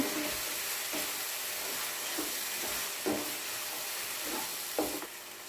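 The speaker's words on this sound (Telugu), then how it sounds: "ఈ కారం ఉప్పు అంతా కలబెట్టుకోవాలి" Steady sizzling in a hot pan with several soft scraping strokes as a spoon stirs chilli powder and salt into a leafy curry, close and fairly quiet.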